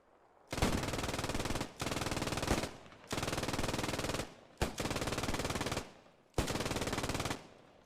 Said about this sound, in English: MG just trying to put fire down range